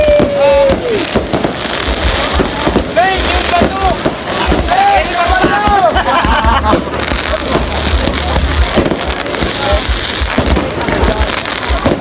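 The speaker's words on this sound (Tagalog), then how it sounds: "So guys, may pa-fireworks sila." Fireworks bursting at an outdoor New Year concert in Sorsogon, Bicol province, a dense continuous crackle of pops and bangs with whistling streaks over crowd noise and voices.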